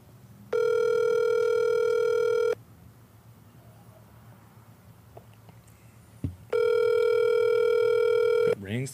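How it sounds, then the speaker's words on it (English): Two long electronic ringback tones from an outgoing phone call, each about two seconds with a pause between, heard clearly over a quiet room. "It rings. The phone is on."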